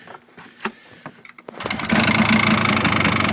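A Polaris Xplorer 400 ATV engine on choke sputters irregularly at first, then catches and runs steadily, its loud, rough, buzzing drone filling the rest of the clip.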